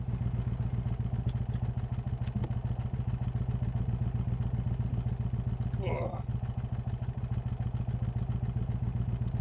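A motorcycle engine drones steadily and loudly throughout a night cruise on the Akaroa loop, heard from the rider's position with constant low rumble and wind, plus a brief clatter midway.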